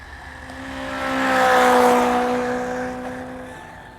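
An EC30B Pro RC car on a 2S LiPo runs at full throttle with a high electric motor whine that swells as it nears and then fades, a single pass lasting a few seconds.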